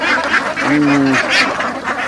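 Ducks on a farm quack as wheat is scattered for them on freshly laid soil, a short burst of close, clear nasal calls over a steady background murmur.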